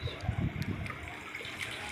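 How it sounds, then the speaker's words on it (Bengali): Mutton stock poured into a pot of mutton, potatoes and spices, a soft liquid splash and trickle that fades into a low steady wash. "এবার মটনের স্টকটা ছিল সেটা ঢেলে দিলাম"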